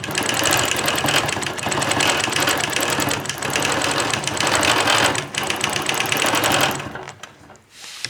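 A sewing machine runs steadily, quilting a straight line across a block with a Squiggy ruler, with a fast continuous mechanical whir that stops near the end, followed by a brief quiet tail.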